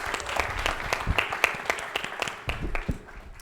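An audience at an art and social change event gives a round of applause, with individual claps standing out in an uneven burst that thins toward the end.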